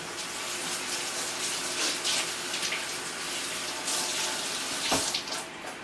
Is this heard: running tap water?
yes